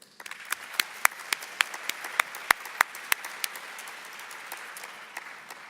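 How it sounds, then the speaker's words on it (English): Audience applause at the ICML 2018 machine learning conference: a steady patter of many hands with sharper individual claps standing out, fairly distant and moderately loud, slowly thinning toward the end with no talk. "So please welcome them with a round of applause."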